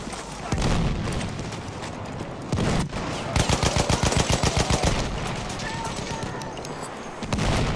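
Gunfire in a Battlefield 1 match near a hill above Bravo, with scattered loud shots and then a fast rhythmic burst of rounds midway, heard among battle noise and a commentator's voice.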